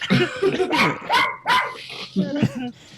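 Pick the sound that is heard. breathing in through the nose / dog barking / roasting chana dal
dog barking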